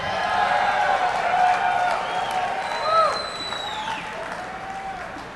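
An audience at the Fender NAMM 2008 gala applauds steadily, a dense wash of clapping with some cheering that swells and fades, while whistles ring out above it.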